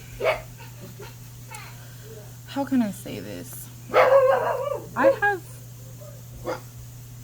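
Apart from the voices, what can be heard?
dog barking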